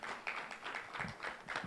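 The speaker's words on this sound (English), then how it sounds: "Continue clapping until they sit down" An audience at a FIDA-Kenya and LSK vice presidential debate claps for the candidates, with a faint, rhythmic patter of hands in a room.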